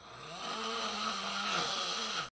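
A person snores in one long continuous breath, a close, steady rasping drone that holds evenly for about two seconds before cutting off abruptly.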